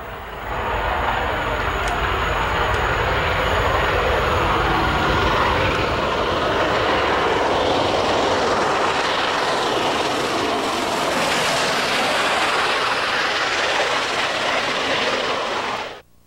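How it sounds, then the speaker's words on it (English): A steam locomotive hauling a passenger train rumbles past in South Africa with a loud, steady roar that swells in after a second and holds before cutting off near the end. "The crack Orange Express passenger train was steam hauled during the festival."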